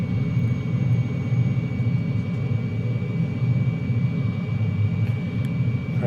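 A De Havilland Goblin jet engine powering a DH.100 Vampire in a flight simulator gives a steady, loud, close roar, a dense low rumble with a faint high whine above it that holds evenly and never breaks.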